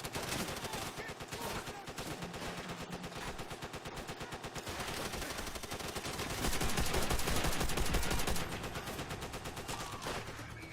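Dense, loud gunfire and rapid machine-gun bursts fill a co-op mission in Call of Duty: World at War, rattling almost without pause and swelling louder near the end.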